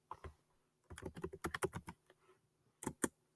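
Keys clack on a computer keyboard in two quick bursts, a busy run of close, crisp taps followed by a short pair after a pause, with no talking.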